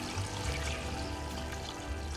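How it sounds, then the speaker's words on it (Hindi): About two litres of water poured into a cooking pot for paye (trotters): a steady, full splashing gush, close and continuous throughout. "अब हम इसमें तकरीबन 2 लीटर पानी डाल देते हैं।"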